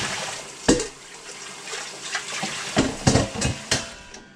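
Water splashes and sloshes while a milking container from a goat is rinsed, a close, steady wash of running liquid broken by a few sharper swishes and knocks, with no talking.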